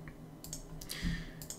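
Several crisp mouse clicks at a computer desk, close and quiet, spaced irregularly over a low steady room hum.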